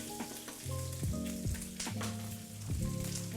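Food frying in a pan sizzles steadily and close by, with bursts of stirring and scraping over a constant hiss and no voices.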